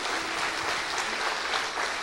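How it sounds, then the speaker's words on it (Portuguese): A church congregation at a communion service breaks into warm, continuous applause of many hands, an even wash of clapping with no single voice standing out. "pedimos e te louvamos com muita salva de palmas para Ti, Pai"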